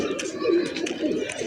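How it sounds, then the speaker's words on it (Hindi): A lalsara pigeon coos softly in a pigeon loft, a short low rolling coo heard close among other faint bird sounds and background murmur. "लालसरा कबूतर देखा था"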